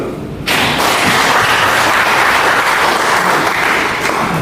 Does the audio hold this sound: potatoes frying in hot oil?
no